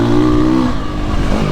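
Triumph TF 450-X motocross bike engine revving hard up close, a loud brief roar that drops in pitch as the throttle eases.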